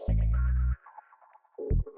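A filtered house track layer plays with a deep bass in Ableton: two heavy, boomy bass hits separated by a gap of quieter, muffled synth tones.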